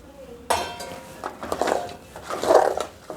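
A spoon scrapes and clinks against a pot while jaggery is stirred into cooked rice and lentils for sweet pongal, a few close metallic knocks over soft stirring, with no voice.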